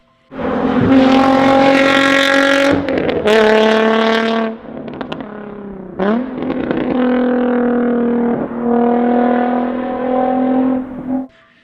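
A Nissan 350Z with a VQ V6 exhaust, loud and close, revving in long sustained droning pulls with brief drops between them, deep and raspy, heard alone for about eleven seconds.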